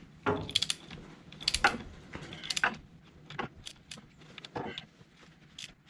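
Several sharp metallic clicks and clunks come from a torque wrench tightening an engine bolt during an engine swap on an R53 car, arriving in irregular bursts at close range.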